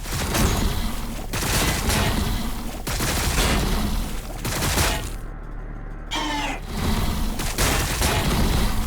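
Repeated loud fusillades of gunfire and booming impacts in the Warhammer 40,000: Battlesector strategy game, pounding in waves with a brief lull partway through.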